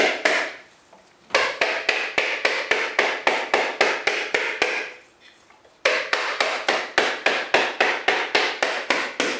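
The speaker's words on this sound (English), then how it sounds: "a ball peen hammer is a pretty good hammer for this" A ball peen hammer beats on a whole coconut in fast, regular, sharp knocks, close and loud, in two long runs split by brief pauses.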